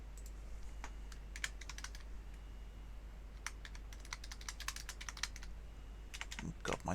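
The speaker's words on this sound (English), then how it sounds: "my typing is all over the place tonight" Computer keyboard typed on in uneven bursts of quick clicking keystrokes, close and fairly crisp over a low steady hum, with pauses between runs.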